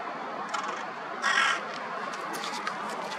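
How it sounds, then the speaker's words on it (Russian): Crows cawing outdoors, several harsh calls at moderate distance with the loudest burst near the middle, over faint background noise. "Вот это тебе и птички."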